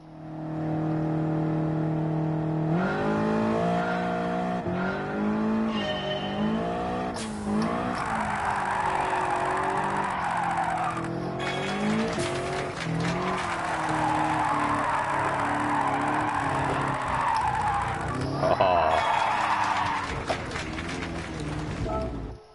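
A race car engine in Gran Turismo 7 revs and climbs through gears with long tyre squeals through corners, loud and continuous throughout.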